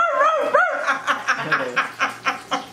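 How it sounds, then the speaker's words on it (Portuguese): A dog barks in a quick run of about eight short yips and barks, close and fairly loud, following a brief whiny vocal sound at the start, heard at a family barbecue. "O cachorro."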